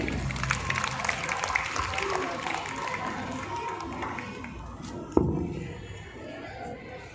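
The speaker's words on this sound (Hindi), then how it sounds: "एक बार जोरदार तालियां से हम उन्हें स्वागत करेंगे" Guests are welcomed with crowd applause at a school annual day celebration. Moderate clapping blends with chatter and a speaking voice, fades gradually, and a single loud thud cuts in near the end.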